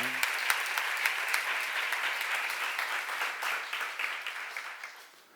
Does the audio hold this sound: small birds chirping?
no